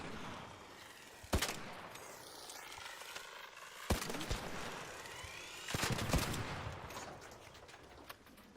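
Gunfire in the video game Arc Raiders: several sharp shot bursts stand out over a steady, noisy game backdrop, with a louder cluster of shots near the end.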